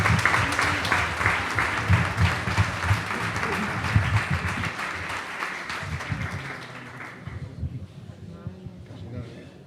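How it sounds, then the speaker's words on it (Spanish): At a book presentation in Guardamar, an audience applauds for Mari Carmen with loud, dense clapping that gradually thins and fades toward the end, while voices and murmurs are heard throughout. "Por eso os pido un aplauso para Mari Carmen."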